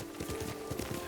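Galloping horse hooves from riding on horseback in the samurai video game Ghost of Tsushima, a steady rapid clip-clop rhythm close and clear, with no talk over it.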